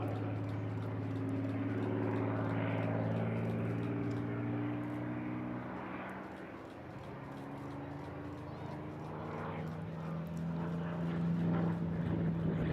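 A vintage propeller aircraft in photo recce blue at Eastbourne International Airshow 2024 drones steadily overhead, a sustained engine hum that swells and fades slightly, with a voice talking over it.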